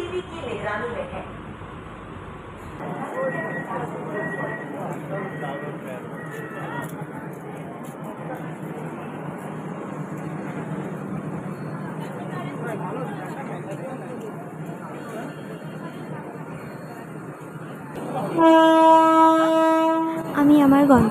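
An AC local train pulls away toward Sealdah with a steady rumble of carriages and wheel noise under passenger chatter, horn-like tones sounding briefly early on, and a louder burst of chiming tones near the end.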